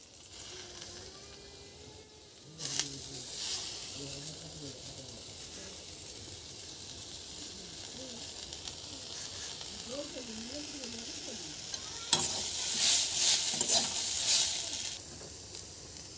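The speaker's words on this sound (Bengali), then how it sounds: "আলু কুচানোটা ভালোভাবে ভেজে নেব।" Chopped potato and carrot fry in oil for egg chowmein, giving a steady hiss that swells louder near the end, with occasional stirring under a voice talking.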